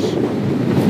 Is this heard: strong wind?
yes